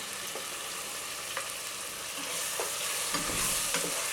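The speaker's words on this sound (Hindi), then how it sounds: "जो गोश्त मैंने अभी उबाला था अच्छे से ये कुक हुआ हुआ है, इसको हम इसमें शामिल कर लेंगे।" Boiled beef stirred and fried in a pot for biryani: a constant sizzle broken by periodic scraping and clanking stir strokes, growing louder toward the end, with no talking.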